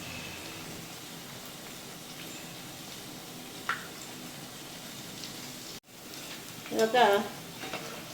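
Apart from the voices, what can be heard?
gobi kabab frying in oil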